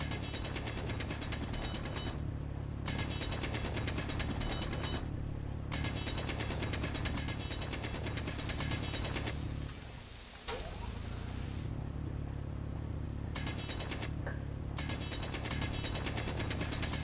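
A welding tool runs in the Space Engineers video game, giving a continuous mechanical, ratcheting buzz with a gritty crackle. The sound holds steady except for a brief dip partway through.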